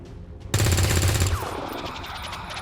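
A sudden burst of rapid automatic gunfire from XCOM 2 Long War 2 erupts loud and close for about a second, then trails off into a ringing, echoing tail.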